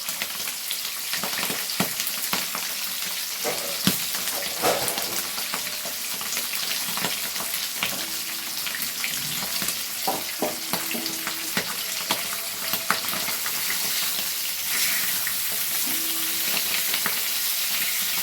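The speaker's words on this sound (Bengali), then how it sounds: "মাছগুলো ভেজে নিচ্ছি।" Fesha fish pieces frying lightly in oil in a pan, a continuous close crackling sizzle with scattered utensil clinks and stirring, no talking.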